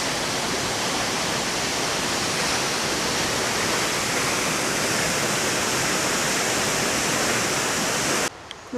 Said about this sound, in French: c'était la cascade Kali